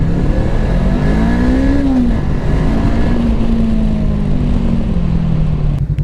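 A Voge 500DS motorcycle with a 500 cc twin-cylinder engine pulls hard, its loud, close exhaust note rising and falling steadily as it accelerates on the road, with no talking.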